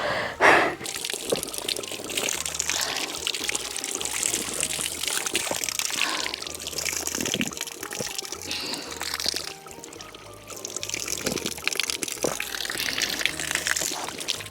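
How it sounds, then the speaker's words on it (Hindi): Mountain water flows along a trekking path near Nathan Village in Himachal, a close, continuous splashing and trickling stream with steady dripping, running unbroken and loud from start to finish. "वाह, पानी बह रहा है, मैं पानी पीऊँगी"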